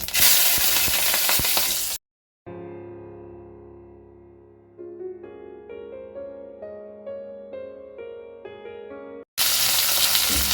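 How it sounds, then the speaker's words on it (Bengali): Whole cumin and green chilli frying in oil left over from frying fish give a loud, close sizzle. The sizzle is heard at the start and again at the end, with soft melodic tones in between. "মাছ ভেজে নেওয়ার তেলের মধ্যে দিয়ে দেব গোটা জিরে দিয়ে দেব কাঁচা লঙ্কা"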